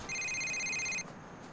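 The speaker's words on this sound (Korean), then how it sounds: "전화 한 통 걸려오고 있고요." An incoming call rings in GTA 4: a single bright electronic ringtone burst, steady and clear for about a second, then cutting off into quiet room tone.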